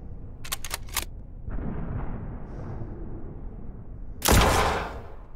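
Ship weapons firing in the space combat game Spacebourne 2: a quick burst of three sharp shots, then a low rumbling engine hum, and finally a loud, close blast that fades into a noisy wash.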